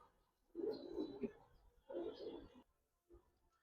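Pigeons of the Lal Gorra and Khaki kinds, offered for sale as pairs, coo in low throaty bursts, two longer phrases and a short final one, fairly close and moderately loud.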